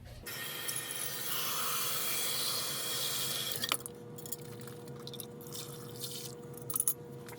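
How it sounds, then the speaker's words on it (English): Hot water runs hard from a tap into a clear container for about three seconds, a steady broad rush, then drops to quieter trickling, handling clatter and a few clinks of the container against the sink. "First thing we're going to do is rinse it with super hot water."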